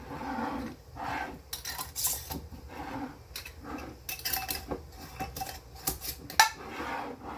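Glass canning jars being fitted with lids and screw rings while hot, giving a run of close, bright metal-on-glass clinks and scrapes scattered irregularly, with one sharper clink near the end.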